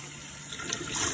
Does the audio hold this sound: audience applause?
no